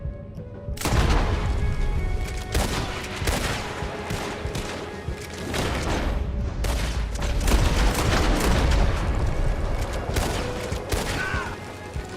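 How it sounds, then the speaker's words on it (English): Gunfire in the Western shooter Red Dead Online: repeated loud cracks and booming volleys, some overlapping in bursts, with rumbling echoes and a dense, chaotic firefight texture throughout. "Who the hell is shooting me?"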